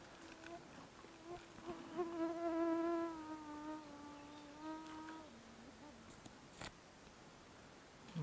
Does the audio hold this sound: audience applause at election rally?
no